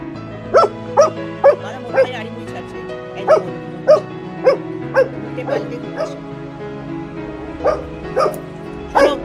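A pet dog barks in a steady run of short, sharp yips and woofs, about a dozen spaced across the stretch at an even pace, close and clear over a low steady background hum.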